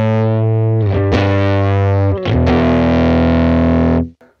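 Electric guitar played through the Deluxe amp model of a Fender Mustang GTX100, a slightly saturated, thick tone with sustained chords, a brief break and restrike, then a ringing final chord that cuts off.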